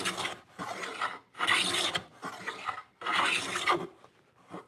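A hand plane takes wood shavings in a woodworking shop, several distinct rasping strokes separated by short pauses, close and fairly loud.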